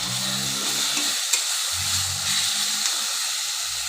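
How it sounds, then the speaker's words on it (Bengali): Spices fry in hot oil for a Bengali crab curry, giving a steady bright sizzle and hiss with faint stirring scrapes and low clinks of the pan, no talking. "সব মশলাগুলো তেলে ভালো করে ভেজে নেব।"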